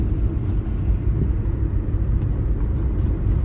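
A car engine running at steady speed just after a shift into third gear during a driving lesson, a constant low rumble with road and wind noise, loud and close, with no talk.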